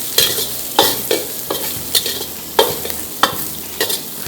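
Chicken stir-fries in a hot pan, with loud, regular scraping strokes from a utensil roughly every half second over a continuous sizzle, close up.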